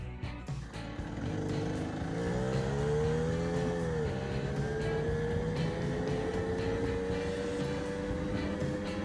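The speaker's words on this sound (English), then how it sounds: "Just getting a feel for the bike, see what it does, see how it shifts, see how it acts while we're riding it." A 1980 Puch Newport II moped with a ZA50 two-speed automatic engine is ridden, its small two-stroke motor droning steadily and rising in pitch as it accelerates, loud and close throughout with no talk.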